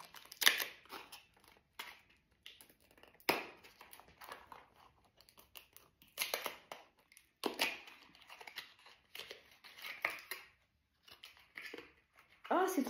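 Plastic packaging of a small pot of lip scrub being opened up close, with crinkling, tearing and snipping noises in scattered bursts.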